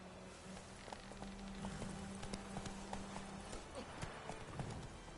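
Roach, the horse in The Witcher 3, gallops with steady clip-clop hooves. A faint neigh comes through above a low steady hum, and a voice is heard in the middle of the run.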